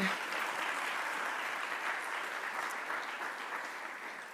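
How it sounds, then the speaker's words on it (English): Audience applause at a film festival conference session, a dense steady clapping from a crowd that holds evenly and tapers slightly toward the end. "Yes, please applaud for that."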